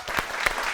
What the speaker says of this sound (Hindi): लेडीज एंड जेंटलमैन, मारिया वासी के लिए तालियां।